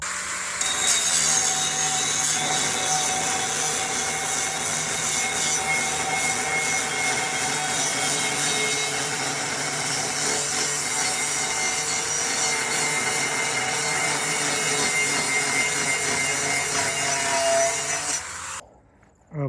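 An angle grinder cuts a notch in the metal of a Stone Stomper, with angle iron clamped on nearby, giving a loud, steady, unbroken grind that runs for about eighteen seconds before cutting off abruptly.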